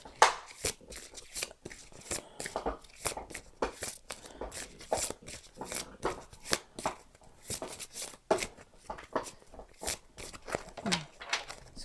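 Tarot-style advice cards shuffled by hand, a rapid run of crisp riffling and flicking bursts repeating steadily throughout, fairly close and alone with no talk.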